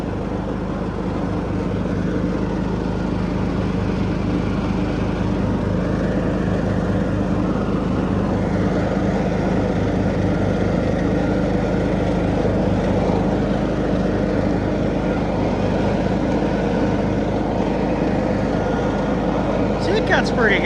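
An abandoned John Deere 300 lawn tractor, revived after sitting for years, runs and mows with a steady, loud engine drone and blade whir throughout, holding an unbroken rumble from start to finish.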